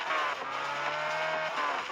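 A car driving fast, its engine holding a steady high-pitched whine with tire noise, loud and close, with no one talking.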